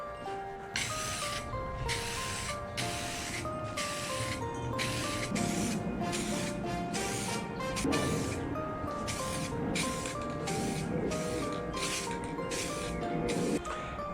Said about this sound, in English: It's time to start spraying the color.